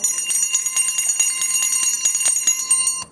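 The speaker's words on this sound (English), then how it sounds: "Let me ring my bell." A small hand bell is rung rapidly and continuously for about three seconds, its bright metallic jingle repeating in quick, uneven strokes, close and clear with nothing else heard.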